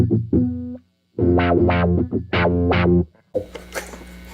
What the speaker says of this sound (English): There's a more traditional crybaby sound